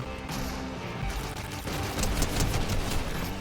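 Rifle fire in a Call of Duty–style shooter match (Grind Reload mode), a dense burst of rapid shots with crashing impacts, loud and continuous, rising in intensity toward the end, with no talk over it.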